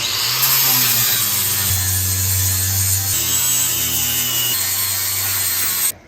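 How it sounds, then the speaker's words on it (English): Angle grinder cleaning a metal area on a Jeep CJ-2A body to prepare it for mounting brackets, a loud continuous whine whose pitch steps down and shifts as the disc bites and eases off the steel. "What we are doing here with the grinder is cleaning off an area to be able to attach these little builder brackets"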